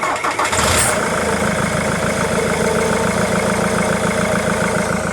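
A Jaguar X-Type 2.0 diesel with a no-power fault cranks briefly, then catches and settles into a steady, loud, close idle.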